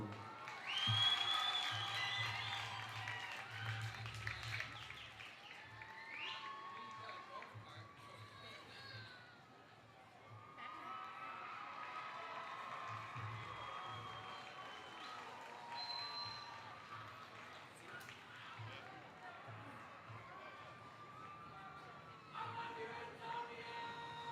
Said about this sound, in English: one more big round of applause for Ava and Antonio